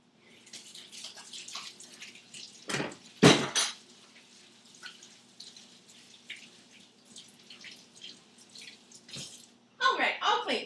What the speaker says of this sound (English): what I need to do is go wash my hands next